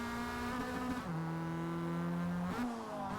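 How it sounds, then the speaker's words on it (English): Car engine sound from the racing video game Forza, played while building a drift car: a steady, fairly quiet droning engine note whose pitch drops twice at gear shifts. "I really hope they fix some of these engine noises, because I know most of these engine noises were carried out from previous games"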